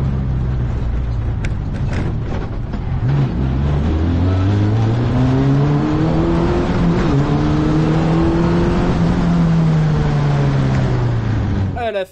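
Formula Renault race car pulling out of the pit lane under hard acceleration in second gear, its engine note climbing steadily in pitch as it revs to the limit, loud and close throughout, with a brief dip before the shift point.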